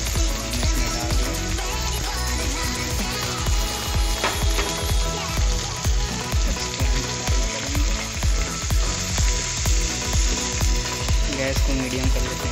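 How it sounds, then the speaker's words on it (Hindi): Dal frying in a pan over a medium gas flame, a loud continuous sizzle with regular rhythmic scraping strokes of a spoon, close and steady throughout, no talking. "गैस को मीडियम कर लेते हैं। इसको भूनते हैं पहले।"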